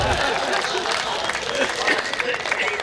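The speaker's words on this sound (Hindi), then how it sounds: "तालियां कमज़ोर हो गई भाई साहब" Audience at a Hindi comic poetry gathering applauds in a steady, fairly loud burst of clapping mixed with crowd murmur and voices throughout.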